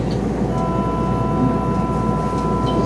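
A Kintetsu 22600 series express train with Mitsubishi IGBT-VVVF drive runs between Ise-shi and Ugata, heard from inside as a steady, close rolling rumble with a faint constant motor whine on top.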